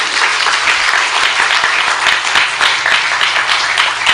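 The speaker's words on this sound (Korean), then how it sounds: "박수 세게 쳐주셔" A church congregation applauding loudly together during a worship service, a dense sustained clatter of many hands without pause.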